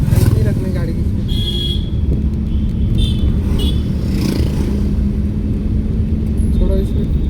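Car driven slowly by a first-day learner driver, braking gently, its steady low engine rumble continuous throughout with an instructor talking over it.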